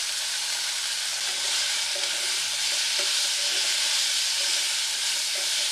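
Beans and vegetables with a little turmeric fry on medium flame, a steady close sizzle with faint hiss throughout and occasional soft stirring scrapes, no voices.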